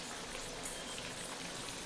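Pea vadas deep-frying in hot oil until crisp and golden, a steady close crackling sizzle that runs without a break, with dense bubbling patter and no voices.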